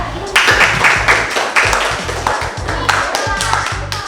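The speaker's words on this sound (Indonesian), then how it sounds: "Tepuk tangan untuk kelompok 3." A group of students in a classroom claps in a brisk burst of applause after a group presentation, hands striking unevenly and loudly, with voices mixed in among the clapping.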